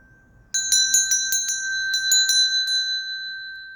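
A bright notification bell chimes in a quick series of about a dozen clear metallic dings, ringing alone and decaying into silence.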